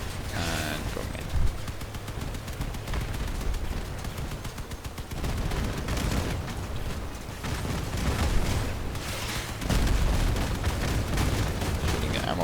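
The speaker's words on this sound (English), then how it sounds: "Shooting the ammo barrels with my Spectre." Gunfire in the vehicle combat game Crossout, shooting ammo barrels with a Spectre weapon: dense, continuous bursts of shots and booming impacts throughout, loud and busy with game noise.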